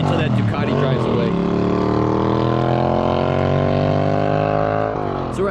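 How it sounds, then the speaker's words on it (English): A Ducati motorcycle at a rural stop-sign intersection: a loud, close engine drone holds steady for several seconds, its pitch shifting as it pulls away. "I'll wait till that Ducati drives away."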